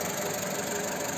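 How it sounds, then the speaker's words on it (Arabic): A repaired car engine, once shaky at idle, now runs smoothly: a steady, even hum with a faint ticking texture, close and continuous throughout, no voices. "موتور هاو راكح"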